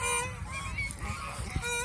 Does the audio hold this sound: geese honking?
yes